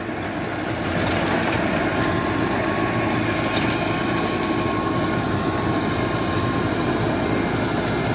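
A New Holland Fiat 640 tractor of 75 hp runs nearby with a rotavator, producing a steady, loud, even engine drone that holds unchanged throughout.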